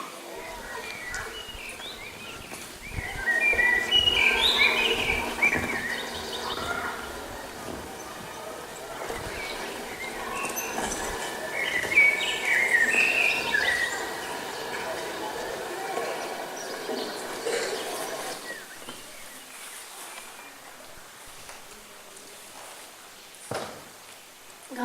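Recorded birdsong, including coal tits and blackbirds, plays against a hissy background: scattered faint chirps and whistles come in bursts with low rumbles and knocks underneath.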